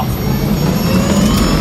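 An electric Land Rover Series 3 accelerates hard on the road. A loud, steady roar of motor and wind fills the cabin, with a low rumble underneath and no voices.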